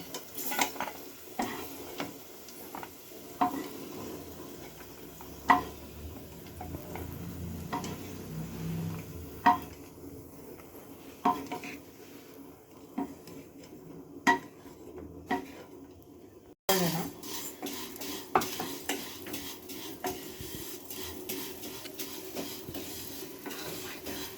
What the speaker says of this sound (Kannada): ನಮ್ಮಮ್ಮ ಶಾವ್ಗೆನ ಉರಿತಾ ಇದ್ದಾರೆ